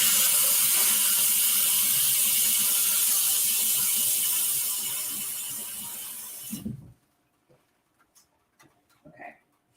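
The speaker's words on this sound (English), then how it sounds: "I'm turning the water on." Loud, steady rush of tap water runs close by for several seconds, then cuts off abruptly, followed by a few quiet knocks and clatters.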